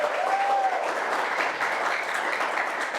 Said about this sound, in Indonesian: Bagi tepuk tangan dulu bagi yang worship tadi yang luar biasa.